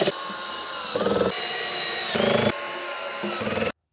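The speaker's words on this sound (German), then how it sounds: "Ich mache das aber wieder mit meinem passenden Aufsatz für den Akkuschrauber" A cordless screwdriver driving screws into an IKEA Kullen dresser, with loud, close motor whine in several bursts with brief pauses and pitch shifts as each screw tightens, ending abruptly.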